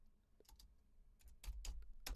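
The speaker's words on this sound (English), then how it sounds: "I'm just typing it in here to the thing." Keys tapped on a computer keyboard in a few short, quiet bursts of clicks, with small gaps between groups of strokes.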